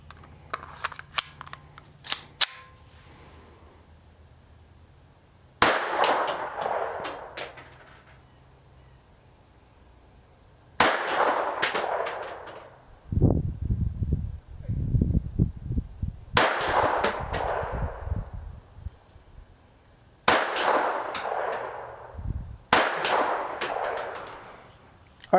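Sharp single .22 pistol shots from a KelTec P17 direct-blowback semi-auto crack out loud and close at an outdoor range, spaced several seconds apart with quiet gaps and some low clatter between them.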